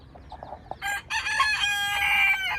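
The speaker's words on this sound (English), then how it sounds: "this mama chicken came out, and I've never seen one with so many chicks." A rooster crows loudly and close by on a farm, a long, ringing call that follows a few soft clucks from hens.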